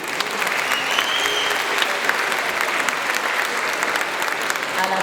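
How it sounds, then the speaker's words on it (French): Dense, loud applause from a graduation gown ceremony audience, continuous clapping from many hands throughout with faint voices mixed in. "applaudissez"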